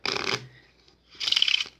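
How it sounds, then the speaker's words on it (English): Two quick bursts of cards being riffled and shuffled, crisp and close, separated by a short pause. "They're ready to be shuffled"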